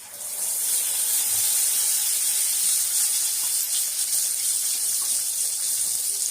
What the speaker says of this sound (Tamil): ஃபர்ஸ்ட்ல பெரிய பீஸ் பாருங்க, லெக் பீஸை போட்டு வறுத்துக்கலாம்.